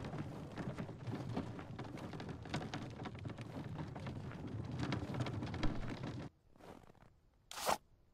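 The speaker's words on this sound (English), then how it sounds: "storm is coming" Steady rain hiss with rumbling thunder from an approaching storm in a survival video game, loud and continuous for about six seconds before dropping off, followed by a brief sharp burst near the end.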